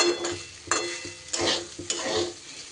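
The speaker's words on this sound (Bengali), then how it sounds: "জিরেটাকেও এর সাথে ভালো করে নাড়িয়ে চাড়িয়ে মিশিয়ে নেব" Ground cumin being stirred into dalia khichuri in a pan, a few distinct scraping strokes of a spoon spaced about every half second over a soft, low sizzle, close and moderately quiet with no voices.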